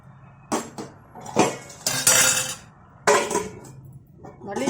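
A spoon scrapes and clanks against a metal pan while ponnaganti greens curry is stirred, giving several uneven bursts of clinking and scraping with short pauses between, close and fairly loud.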